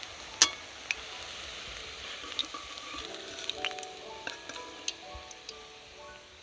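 Chicken doi bora fry in oil as they are lifted out. There is a faint, quiet sizzle with sparse scattered pops and crackles and no talking.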